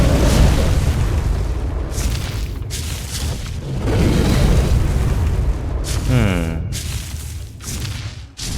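Explosion attack in the video game ARK Survival Evolved on the Ragnarok map with Primal Fear, a series of loud, heavy booming blasts rumbling through most of the clip, with a voice talking over them.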